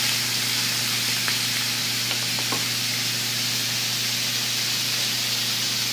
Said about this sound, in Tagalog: Ayan, isang kilong spare ribs. Ayan, igisa po muna natin yan.